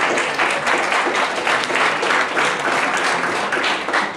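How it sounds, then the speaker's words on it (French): A conference audience at a colloquium on Algerian War archives applauds steadily, dense and sustained clapping filling the room without pause. "on peut les applaudir d'ailleurs"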